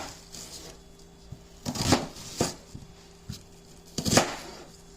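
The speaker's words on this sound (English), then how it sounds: "Do a real simple rough chop on this onion." Knife rough-chopping an onion on a cutting board in a home kitchen, a few scattered sharp knocks and thuds spaced irregularly, close and fairly quiet with a faint background hum.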